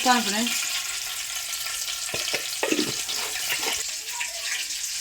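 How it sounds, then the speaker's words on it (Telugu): Curry leaves and garlic sizzle and crackle in hot oil for a village-style sesame roti chutney, a steady bright frying hiss running throughout with a few louder spatters. "కరివేపాకును ఎల్లిపాయలు వేస్తున్నావా"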